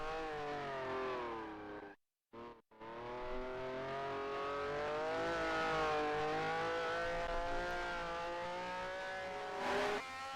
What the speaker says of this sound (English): I'm braking so late for Parabolica